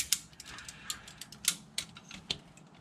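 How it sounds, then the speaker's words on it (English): A ratchet strap being cranked during work on rear four-link suspension for a K30 Blazer, giving a series of sharp, irregular metallic clicks, fairly close and quiet, without talk. "Here's one of the ratchet straps that I was using."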